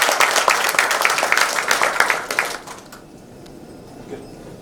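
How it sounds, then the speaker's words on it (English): A crowd applauds with dense clapping for a few seconds, then the clapping fades quickly into quiet room sound. "may I request you all to please give a very loud of applause"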